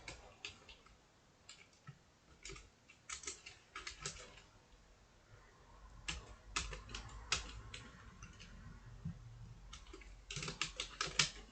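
Someone types code on a computer keyboard, close and quiet, with irregular bursts of crisp key clicks and short pauses that grow busier and louder toward the end.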